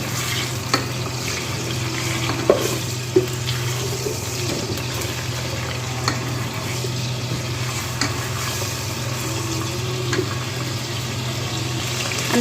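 Goat meat frying in ghee over raised heat for Lucknowi mutton biryani, a steady close sizzle with scattered stirring clinks and scrapes, no talking.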